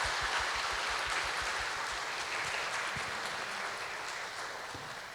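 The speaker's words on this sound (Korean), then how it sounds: "우리 박수로 한번 환영할까요?" Applause from a church congregation at a Sunday service, welcoming visiting members; a steady, dense patter of clapping that holds throughout and tapers slightly at the end.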